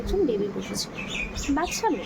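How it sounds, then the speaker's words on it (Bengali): Small birds chirp and tweet in short, bright bursts while a person talks nearby, the calls scattered and fairly close. "পাখিগুলো কি সুন্দর ডাকছে।"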